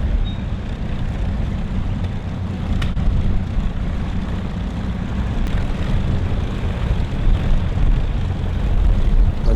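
Avro Lancaster bomber NX611 taxiing with its piston engines running, a steady heavy low rumble that stays loud and unbroken throughout.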